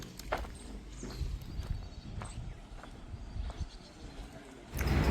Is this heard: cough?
no